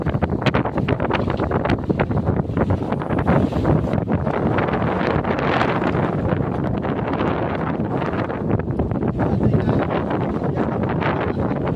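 Strong wind at sea buffets the microphone continuously aboard a boat, a loud rough roar with gusting rumble and no talking.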